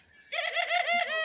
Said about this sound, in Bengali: ঘুঘু পাখির ডাকটাও আমার কাছে অনেক ভালো লাগে।